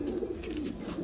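A teddy pigeon cooing softly, a brief low murmuring coo close by and alone, with no other sounds.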